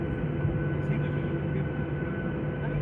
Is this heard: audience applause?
no